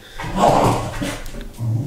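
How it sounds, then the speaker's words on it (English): Pet dogs fuss with a cat indoors, giving a brief burst of close yips, whimpers and scuffling noise lasting under two seconds. "Sorry, my dogs are fussing with the cat."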